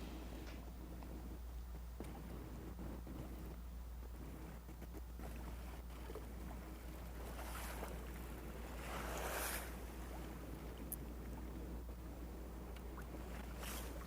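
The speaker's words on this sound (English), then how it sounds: "see those pleasure boat waves ramping up as the party gets started for the Saturday afternoon" Waves from passing pleasure boats wash and slap continuously on the St. Lawrence River on a busy Saturday afternoon, a steady watery rumble with a brief louder surge of splashing partway through, no voices.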